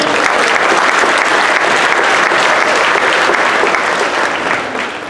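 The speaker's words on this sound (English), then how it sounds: "Applause for our clarinet." A concert audience at a band performance applauds the clarinet section, loud, dense clapping from a large crowd, sustained evenly before tapering slightly at the end.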